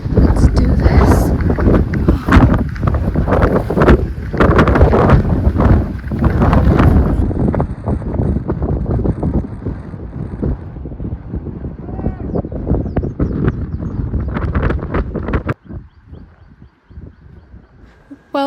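Strong wind hits the microphone on a steep, rocky hilltop hiking trail on Oahu, a loud rumbling buffet that eases into lighter gusts near the end, with faint voices mixed in.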